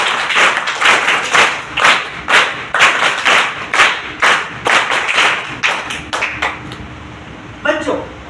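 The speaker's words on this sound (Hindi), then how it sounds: "जोरदार तालियां बजाएं" At a student award ceremony, an audience claps in a strong, fairly synchronized rhythm of loud repeated beats, close and punchy, fading out before a short voice near the end.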